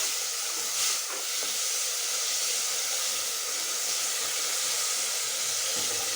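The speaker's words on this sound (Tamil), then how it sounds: "சின்ன வெங்காயம் பூண்டு போட்டு வதக்கிக்கலாம்" Small whole onions, garlic and chopped tomato sauté in a pan, giving a continuous broad hiss of sizzling that holds steady and fairly loud without breaks.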